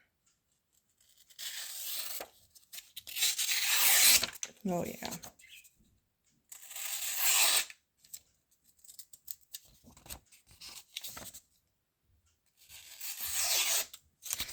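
Tenable Goblin knife blade with 14C20N steel slicing through sheets of paper, several crisp rasping cuts in bursts with pauses between, close and fairly loud, with a brief spoken exclamation.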